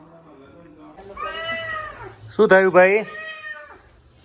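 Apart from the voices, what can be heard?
cat meowing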